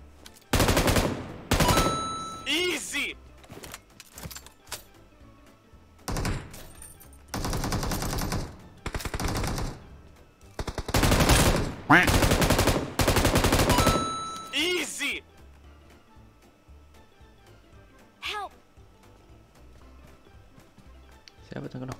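Video game gunfire rattles in loud automatic bursts and scattered single shots, with several dense volleys spread through the clip and quieter gaps between.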